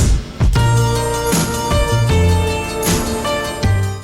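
A song playing as a full band recording with steady rhythmic pulses and sustained melodic tones, continuous and fairly loud.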